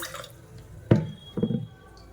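Water goes into a bowl of washed rice set to soak for a sweet appam recipe, heard as two short, close splashing pours a half-second apart against a quiet room.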